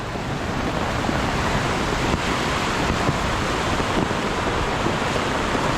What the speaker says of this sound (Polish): Niezły rwący potok.